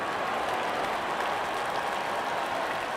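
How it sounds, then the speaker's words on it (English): A video game cricket crowd in Real Cricket roars after a wicket: a dense, continuous wash of cheering and applause, steady and loud, with no distinct voices standing out. "And there comes the celebration, and the crowd loves it."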